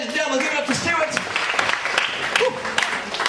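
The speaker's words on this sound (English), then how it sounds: "Give him a nice round of applause." An audience applauding a volunteer at a magic show, crowd clapping layered with voices and cheering that carries on throughout.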